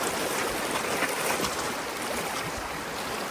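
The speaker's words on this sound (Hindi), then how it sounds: "यहाँ फ्लो तेज है थोड़ा पानी का," Fast-flowing river water rushing around a bamboo raft in Chiang Mai, Thailand, a steady loud broadband wash with no pauses and no voices, close and continuous throughout.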